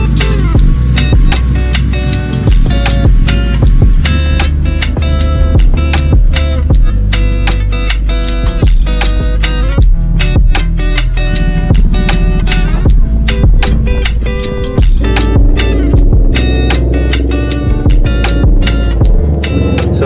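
A motorcycle rides a track-day circuit, its engine droning loud and steady for the whole stretch with a constant low rumble, sharp clicks and knocks from the bike over the top, and no voices.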